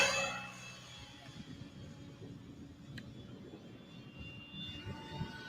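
A large RC model Cessna airplane flies with a steady, moderately distant engine drone that carries on without a break at a low level outdoors.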